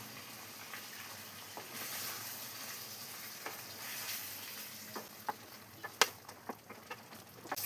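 Chicken curry with coconut milk being stirred in a pan, a soft steady sizzle broken by sharp spoon-on-pan clinks and scrapes that grow more frequent toward the end.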